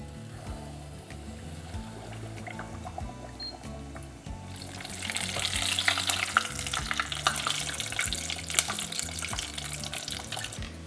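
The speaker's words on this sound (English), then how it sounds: "Coat the fish in the batter and then lay the fish into the hot oil away from you." Quiet kitchen clatter, then a loud, steady crackling sizzle of battered fish dropped into 180-degree oil that keeps bubbling for several seconds.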